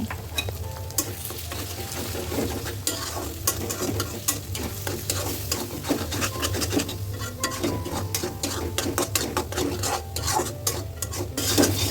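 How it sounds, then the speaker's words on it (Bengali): Eggs, mixed with salt, fry in a pan while being stirred and turned for Thai noodles, a continuous close sizzle broken by dense, rapid scraping and rubbing of the utensil against the pan, with no voices. "মিক্স করা হয়ে গেলে নেড়ে চেড়ে ভালো করে ভেজে নেব।"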